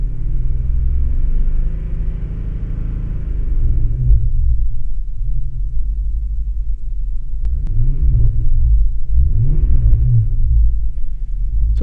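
An engine monitored for knock faults rumbles low and steady, then climbs through a series of rising revs in repeated sweeps.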